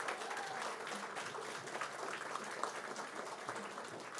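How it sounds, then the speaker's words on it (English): Audience applause at a fashion show, a fairly quiet, steady patter of many hands clapping throughout, heard from a distance with no voices standing out. "give her a separate applause."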